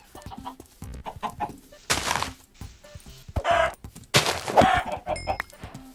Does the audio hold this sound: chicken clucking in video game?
yes